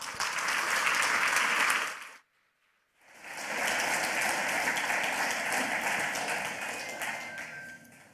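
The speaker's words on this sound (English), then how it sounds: "Please give him a warm round of applause." A conference audience applauds a talk in a steady dense roar of clapping, broken by a brief near-silent gap before the applause picks up again and carries on loudly to the end.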